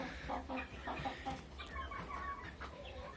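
Hens, Black Sultan chickens with one rooster among them, cluck and murmur in a steady, busy chatter inside a coop, several birds close by with overlapping calls and no talking.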